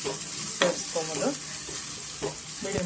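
Ginger, garlic and curry leaves fry in a pan with a steady close sizzle, broken by a few scraping stirs of a spoon, no voices.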